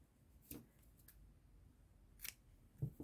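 Scissors snip through yarn while an amigurumi doll shoe is crocheted, a few quiet, close, crisp cuts spaced apart over low background hush.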